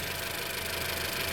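A Honda Stepwagon Spada engine idles smoothly and steadily up close, a faint even hum with no change across the brief moment.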